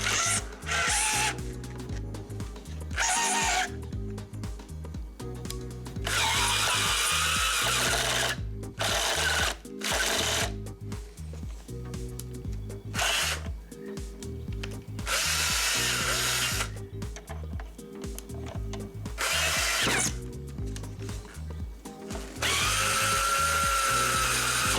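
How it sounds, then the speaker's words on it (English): A screw gun drives the headlight adjustment screw on a GMC Yukon, its motor whining in repeated bursts of several seconds each, separated by short pauses, close and loud. "I took my screw gun and chucked it up to the adjustment screw and drilled it until it"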